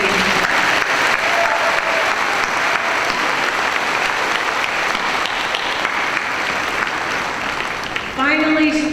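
A crowd at a 2016 JGHS high school graduation ceremony gives a loud, sustained ovation that fills the hall for several seconds, and a voice comes in over the clapping near the end.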